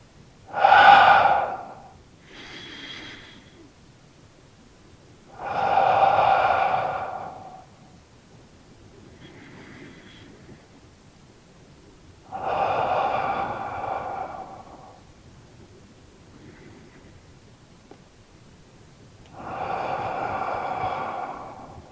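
Slow, deep tai chi breathing: four long, audible breaths in and out, spaced several seconds apart, with fainter breaths between them, close and alone.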